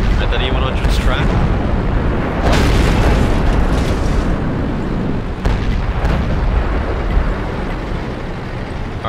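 Tank gunfire and explosions in World of Tanks, heavy booming blasts and rumbling bursts rolling continuously with several sharp hits, under team voice chat.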